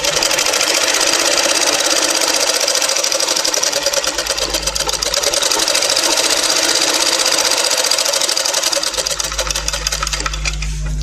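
A sewing machine runs fast and steady, stitching double seams on fabric for tailoring with a rapid, even mechanical whir and clatter, close by and briefly slowing near the end.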